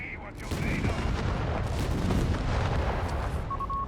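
Battle gunfire in the real-time strategy game Company of Heroes 3, a dense continuous barrage of shots and artillery booms with ricocheting impacts, steady and loud throughout.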